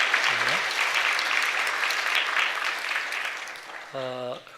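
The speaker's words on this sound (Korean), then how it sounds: "박수로 환영하고 축하하겠습니다" Steady applause from a church congregation, a continuous wash of clapping with a voice speaking briefly at the start and again near the end.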